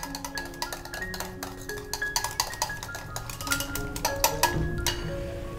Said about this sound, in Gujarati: તેમાં 2 ટેબલસ્પૂન ચણાનો લોટ એડ કરી દેશું અને તેને બીટરથી સરસ રીતે મિક્સ કરી અને ફીણી લેશું.